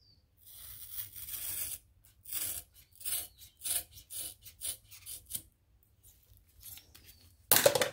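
Scissors snip through titanium exhaust header wrap braid in a series of short, uneven cuts, close and fairly quiet with pauses between strokes and a sharper rasp at the end.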